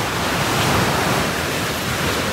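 Sea surf breaking on a beach shoreline beside a tent, a continuous loud broadband wash of waves with wind, steady and close for the whole stretch.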